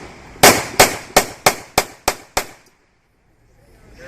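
Seven sharp gunshots from a World War II weapon firing .45 rounds at a reenactors' demonstration, evenly spaced and close, followed by quiet.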